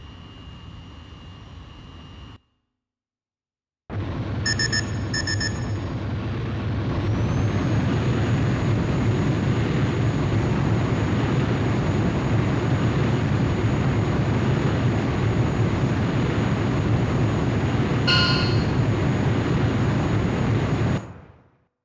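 Jet fighter in Ace Combat: Joint Assault spooling up and taking off, a loud sustained engine roar and rushing thrust that swells after a brief silence and holds steady, with short tonal beeps layered on top.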